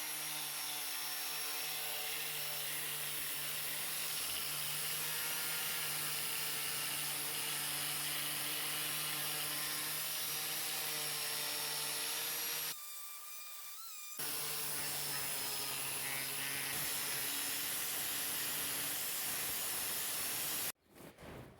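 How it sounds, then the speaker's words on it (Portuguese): An electric power sander works the leg and side of an imbuia wooden bench, a steady loud whine with harmonic hum running nearly continuously, cutting out briefly midway and again at the very end. "Pra mim lixar um pé desse daqui, essa lateral, dos dois lados, praticamente vai uma lixa dessa"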